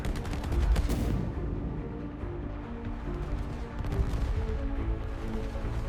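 Dense video-game gunfire from warplanes and warships in a World War II air-sea battle, with a heavy burst of fire up front followed by steady, continuous rattling and booming throughout, loud and alone.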